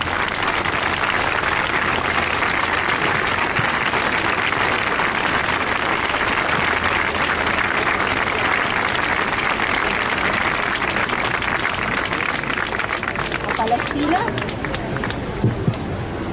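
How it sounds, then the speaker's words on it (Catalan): An audience at an anti-war gathering applauding, a dense steady wash of clapping sustained for many seconds with crowd noise mixed in, loud and close. "Anem a aplaudir aquestes nines a veure si mos escolten del sí que són."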